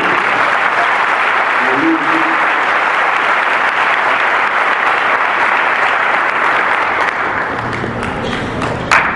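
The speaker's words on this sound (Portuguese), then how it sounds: "Você pode aplaudir o Senhor?" A church congregation at a Communion service applauds steadily and loudly for the whole stretch, a dense, even wash of clapping with faint voices mixed in and a slight drop near the end.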